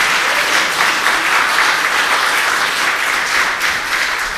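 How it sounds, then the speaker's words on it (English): Audience applause for the readers at a July 4th public reading of the Declaration of Independence: a dense, steady wash of many hands clapping, loud and close, holding evenly for the whole stretch with no talk over it. "How about a round of applause for the readers"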